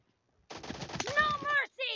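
Gunshots in PUBG gameplay, a quick burst of rapid shots at moderate loudness, mixed with game announcer voice and tonal effects, ending with a short sound effect after a brief gap.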